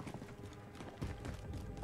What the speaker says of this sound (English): Footsteps sound pretty loud.